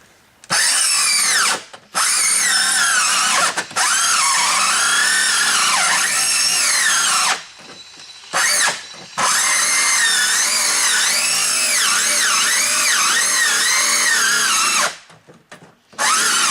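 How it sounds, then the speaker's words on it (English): Cordless power tool cutting through plywood and siding together, a loud, steady whining drive broken by several short pauses, with the motor sputtering and cutting out near the end as its battery dies. "I'm trying to cut both the plywood and the siding at the same time right now"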